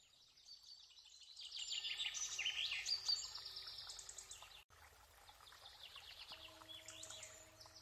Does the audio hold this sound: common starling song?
yes